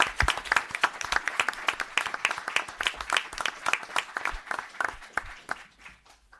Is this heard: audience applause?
yes